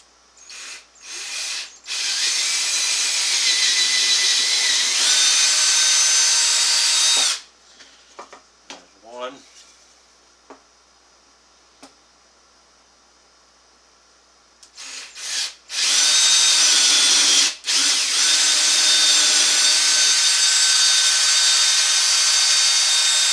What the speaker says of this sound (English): I've got a taper bit and a drill bit, and I've got to drill those 2 holes.